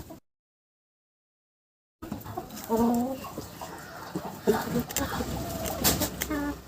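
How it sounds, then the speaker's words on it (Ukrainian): Cochin hens cluck and murmur close by after a brief silence, one showing interest in a nest, with a scatter of soft bird calls and rustling mixed in. "Так, курочка зацікавилась гніздом."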